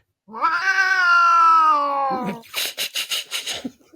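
A cat lets out one long, loud, wavering yowl, followed by a quick run of short, rhythmic scratchy bursts close by.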